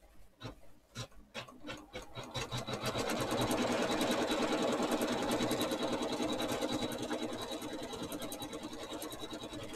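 A sewing machine stitches an in-the-hoop quilt. After a few sparse starting stitches it settles into a loud, steady, rapid mechanical whir that holds for the rest of the stretch, with no talking.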